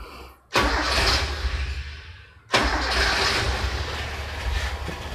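A Toyota Kijang Super G engine with an upgraded ignition and carburetor cranks and fires twice, each start followed by a loud, steady idling rumble close by.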